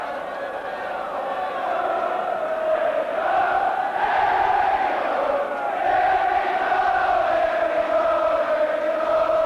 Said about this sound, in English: Fantastic backing for Oxford from the crowd.